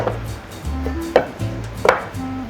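A knife chops through food onto a cutting board, two sharp knocks standing out over a low background hum, close and fairly quiet.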